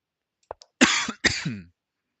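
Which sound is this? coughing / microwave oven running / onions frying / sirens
coughing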